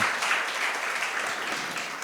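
A church congregation applauding during a sermon, a continuous, fairly loud roar of many people clapping together, steady from start to finish with no voices on top.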